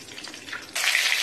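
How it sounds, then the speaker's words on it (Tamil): Mustard seeds crackling in hot oil in a kadai while cooking prawn thokku, a soft sizzle that jumps into loud, dense spluttering partway through, close and continuous with no talk. "கடுகு பொரிஞ்சிருச்சு"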